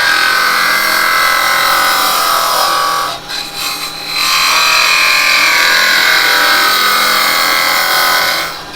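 Hollowing a wood bowl on a lathe, a loud continuous scraping hiss of the tool cutting the spinning wood, briefly dropping off midway before resuming steadily.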